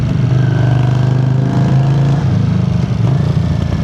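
A 1981 Honda CX400C motorcycle engine runs loud and close at a steady 4000 rpm, its droning rumble holding constant with slight wavering.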